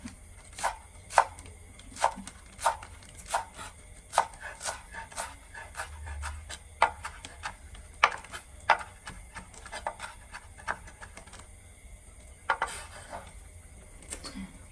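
A knife slices vegetables into thin strips on a board while preparing a Lao-style salad, making faint, steady chopping taps about once a second with brief pauses and no speech.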